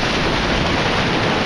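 Sea surf rolling onto the eastern beach at Ölüdeniz, Turkey, a loud continuous roar of water and wind filling the whole moment, close to the microphone with no distinct pauses.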